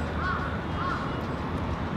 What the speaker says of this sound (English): The birds up in the sky sound like a strange woman.